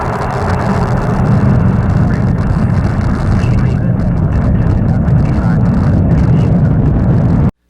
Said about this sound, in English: And liftoff. The Falcon takes flight, propelling the Deep Space Climate Observatory on a million-mile journey